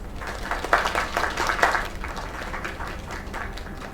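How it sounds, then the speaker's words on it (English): Applause and clapping from a crowd in the video game Lake, a short burst of scattered claps that peaks twice and then fades to a softer patter. "Another round of applause."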